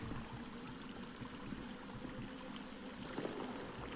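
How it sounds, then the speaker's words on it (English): In the video game Sons of the Forest, a stream flows through a cave as a faint, steady trickling and babbling under quiet room noise, with no voices. "I believe there's a stream coming up."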